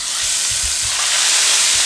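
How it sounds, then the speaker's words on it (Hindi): Steady, loud sizzling hiss of hot ghee crackling in a pan while tempering rice, continuous throughout with faint low thumps underneath. "ये देखें, इसको तड़का लगने लगा है।"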